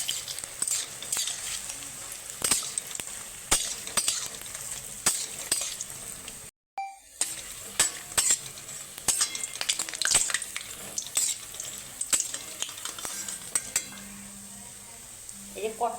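Bora fritters fry in hot oil with a quiet continuous sizzle, broken by repeated clinks and scrapes of a spatula or spoon against the pan, with a brief silent gap.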